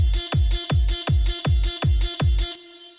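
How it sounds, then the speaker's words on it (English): Renault Twingo horn sample placed on the offbeats over a punchy bass drum and hi-hat, six loud, even honking stabs in a tight dance groove that stops abruptly, no talking. "use the Twingo horn sound as an offbeat sound, together with bass drum and hi-hat"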